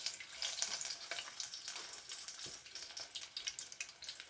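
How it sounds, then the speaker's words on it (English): Fish balls frying in hot grease give off a soft, continuous crackling sizzle with scattered pops, fairly quiet and unbroken by talk. "we're going to drop them in the grease"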